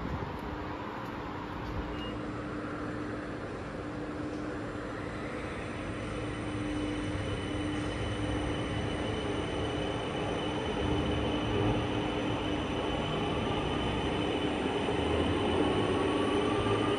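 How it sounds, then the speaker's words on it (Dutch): A tram rolls in near the Pfaffental-Kirchberg funicular in Luxembourg with a steady low rumble and hum that slowly grows louder, with a faint metallic whine riding over it. "Daar komt ook net weer een tram binnenrijden."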